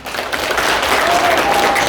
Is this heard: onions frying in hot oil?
no